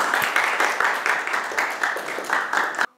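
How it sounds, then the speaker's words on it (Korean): Audience applause at a university police law academic conference: a room of people clapping steadily for about three seconds with fairly even rhythm, then stopping abruptly. "박수 부탁드립니다."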